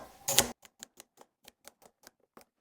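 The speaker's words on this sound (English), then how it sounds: "all I do is just cut these in chunks" A knife cuts rhubarb stalks into chunks on a board, about ten crisp, evenly spaced chops in a steady rhythm after a short rustle, close and fairly quiet.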